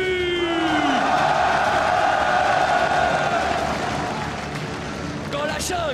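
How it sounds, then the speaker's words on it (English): Loud crowd cheering and applause fill an esports arena during player introductions at the 2018 MSI League of Legends tournament, a sustained roar with whoops that fades slightly near the end. "une salle d'applaudissements s'il vous plaît pour le très talentueux"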